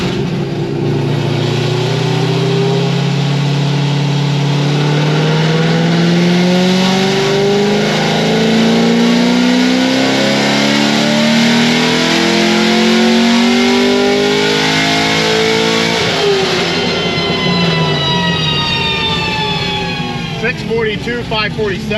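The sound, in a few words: C6 Corvette Z06 engine revving on a dyno pull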